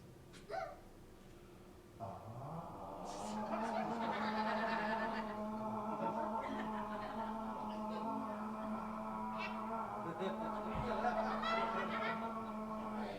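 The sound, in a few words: imitation of an old lady screaming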